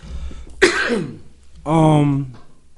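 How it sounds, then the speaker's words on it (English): A single sharp cough bursts out, followed by a drawn-out voiced sound, close and fairly loud against a quiet background. "Like right now, I just cough."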